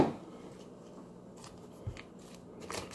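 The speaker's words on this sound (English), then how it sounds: "I'm just gonna open this up with scissors." A few short snips of scissors cutting open packaging against faint rustling and handling noises, quiet and close by.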